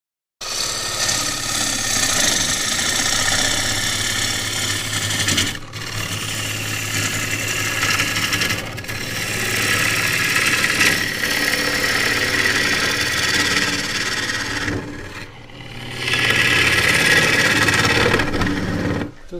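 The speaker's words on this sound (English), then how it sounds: "this is a shallow gouge, a large spindle gouge if you like" A wood lathe spins a bowl blank from a half log as a large shallow spindle gouge cuts it, making a continuous whirring hum with a broadband scraping hiss that briefly stops and resumes.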